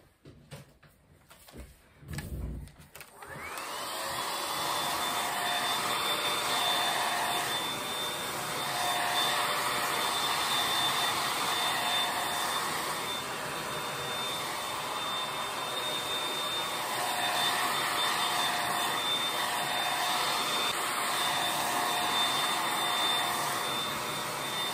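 Hair dryer blowing on freshly henna-dyed hair, a loud steady whooshing roar with a faint high whine that starts after a few brief clunks and runs continuously.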